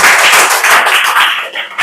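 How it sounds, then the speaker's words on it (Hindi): A class of students in a tuition class claps together in a loud, dense burst of applause that carries on steadily and close by for about two seconds. "जोरदार ताली बजा"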